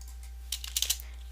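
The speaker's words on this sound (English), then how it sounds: "Every time I press 0 on my keyboard, it tries to think that I'm pausing my video" Keys on a computer keyboard are pressed in a short burst of several quick clicks, close and clear over a steady low hum, with no talking.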